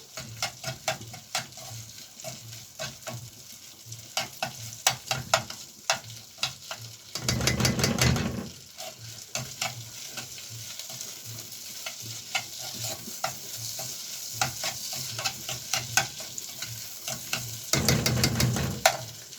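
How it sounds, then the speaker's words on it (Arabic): Ghee sizzling in a pot as food is stirred and fried, a steady crackling fry broken by repeated scraping stirs, with two louder bursts of sizzle, close and without talk. "ده هنقلبه بقى في السمنة زي ما قلت لكم"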